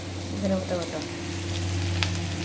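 Coriander paste frying with spices for a rohu fish curry, a moderate close sizzle running steadily over a low hum, with a few faint clinks.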